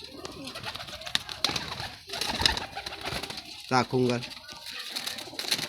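Ferozpuri pigeons coo close by in a loft, with a short burst of deep cooing amid a busy, noisy background while someone talks throughout.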